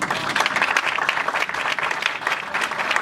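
A church congregation applauds at a Sunday service, dense steady clapping from many hands filling the room for a few seconds, loud and close, with no talk over it.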